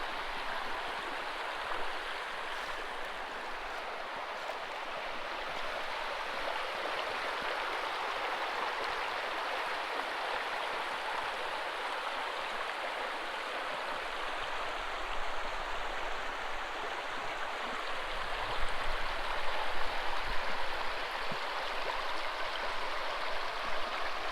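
A creek flows steadily nearby, a continuous rushing, bubbling wash of water with no voices.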